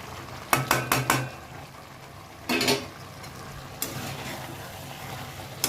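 Ground spices including coriander powder, Kashmiri red chilli powder and chilli flakes are stir-fried in oil, with a quiet sizzle broken by a quick run of sharp spatula clacks and later scraping strokes against the pan.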